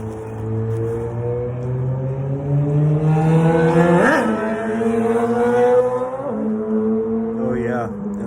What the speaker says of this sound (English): there's the occasional motorcycle